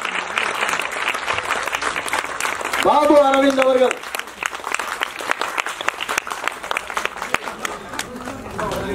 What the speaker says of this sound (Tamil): இசையமைப்பாளரை பலத்த கரகோஷத்துக்கு நடுவில் வருக வருக வருக என்று வரவேற்கிறோம்.